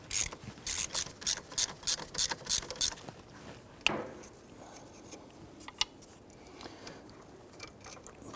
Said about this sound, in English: Using an 11/16 socket, go ahead and remove this nut here.